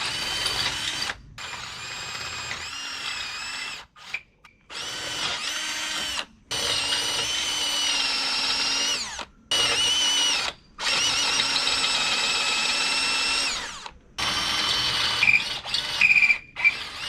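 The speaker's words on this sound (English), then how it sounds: "The chuck on this drill is definitely going bad." A power drill with a failing chuck whirs in long bursts, stopping and starting repeatedly with brief silent gaps between runs, close and loud.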